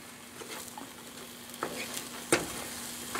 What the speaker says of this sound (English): Check my eggs here. Yeah, they're cooking around the edges.